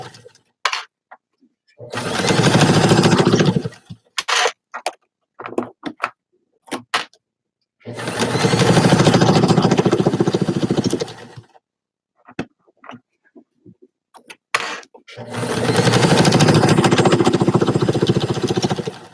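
A home sewing machine stitching fabric runs in three long, loud bursts of whirring motor and needle, separated by pauses filled with short clicks and handling noises.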